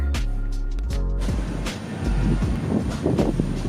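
A heavy goods train rumbles past close by, a deep steady roar with rhythmic clanks from the freight wagons, no voices.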